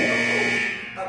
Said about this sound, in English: Well, that's the buzzer.